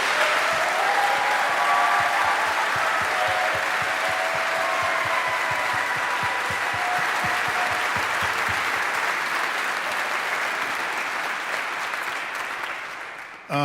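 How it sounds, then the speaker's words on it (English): A large audience at a Harvard ROTC commissioning ceremony breaks into steady, dense applause that holds strong for over ten seconds before tapering off near the end. "Let's give them a huge round of applause."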